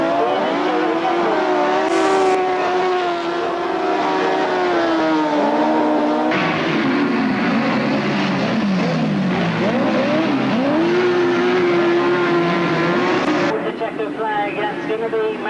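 Grasstrack racing sidecars on the last lap at the 1999 Bonfire Burnup meeting, loud continuous engine roar that swells and shifts in pitch as the machines pass, with a commentator talking throughout.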